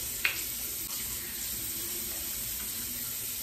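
Warm water runs steadily from a tap as someone wets their face at a bathroom sink during a night skincare routine, a continuous close splashing hiss throughout with no talk.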